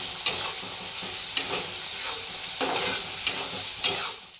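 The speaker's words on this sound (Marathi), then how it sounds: "एक टोमॅटो कापून ठेवला होता मी ते पण तेलामध्ये चांगलं भाजून घेऊया नरम होईपर्यंत" Chopped tomato frying in hot oil for a chutney, a steady broadband sizzle with several sharp stirring scrapes at irregular intervals, close and clear with no voices.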